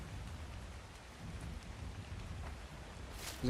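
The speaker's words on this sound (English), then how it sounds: "It's just a storm." Steady rainstorm in Monarky: Bloodtide, a continuous wash of rain with low, rolling thunder rumbling underneath, heard alone without talk.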